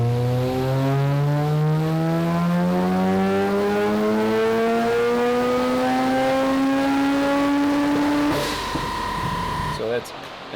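A turbocharged Mazda 13B rotary engine runs a full 15 PSI boost power pull, climbing steadily in pitch as it winds up loud and close for about eight seconds, then backs off and idles briefly before cutting.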